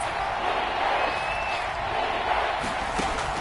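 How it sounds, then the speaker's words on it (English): A Kansas City stadium crowd roars steadily in a Madden NFL football game during a third-and-goal play, a dense continuous wash of crowd noise with faint whistles and shouts. "this is where the KC crowd can make it very tough"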